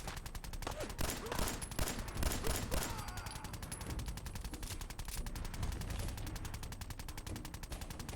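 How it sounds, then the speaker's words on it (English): Rapid, continuous minigun fire in the video game Fallout 4 rattles on without a break, dense and harsh, with sharper bursts early on and distant game effects. "Sounds like a minigun."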